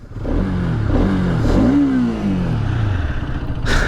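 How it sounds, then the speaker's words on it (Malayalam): A 2023 Bajaj RS 200 motorcycle revs close by, its exhaust rising in pitch and then falling back to idle, with a clattering mechanical undertone and a sharp click near the end. "ബിഫോർ ദാറ്റ് എക്സോസ്റ്റ് നോട്ട് ഞാൻ കേൾപ്പിച്ചു തരാം"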